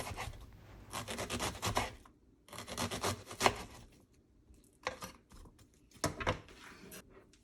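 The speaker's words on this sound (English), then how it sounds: "Cut them in thin slices." A knife slices an avocado for a salad on a cutting board, giving several close bursts of scraping, cutting strokes separated by short pauses.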